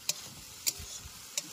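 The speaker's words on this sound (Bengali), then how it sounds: "এদিকে এখন চিংড়ি ভাজা চলছে" Prawns frying in a pan at a riverside picnic in the Sundarbans, a quiet steady sizzle with three sharp clicks or taps spaced through it.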